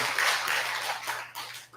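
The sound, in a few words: applause for the choir's song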